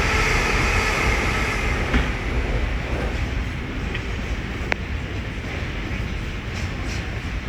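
An Avanti West Coast Class 390 Pendolino from London Euston passes at Willesden Junction on the West Coast Main Line, a loud, close rush of wheels and air that gradually eases as it goes by.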